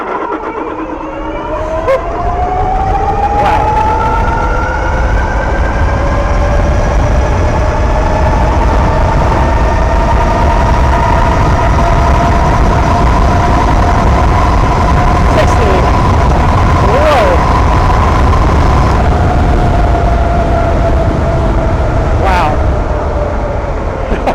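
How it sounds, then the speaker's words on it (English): A 9000-watt electric bicycle pulls hard from a standstill up toward 60 mph, its loud motor whine rising steadily in pitch over a constant roar of wind and road noise, with a few sharp clicks along the way. "let's try the 0 to 60 on this bicycle"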